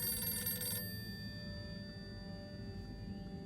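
An old-school home telephone rings in the video game Harold Halibut, a brief bright electronic bell burst at the start, then a faint lingering hum and soft background tones, no speech.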